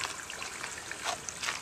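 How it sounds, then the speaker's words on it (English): Water in an aquaponics system trickles out through a drain line, a close, steady splashing dribble with small bubbling bursts over a brief stretch. "And now after the water gets done in here, flows out through this line."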